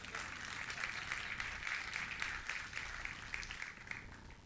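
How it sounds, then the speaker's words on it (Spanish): A church congregation applauds during a sermon, a faint, steady wash of many hands clapping that sounds distant and continuous throughout. "Deme un aplauso, por lo menos."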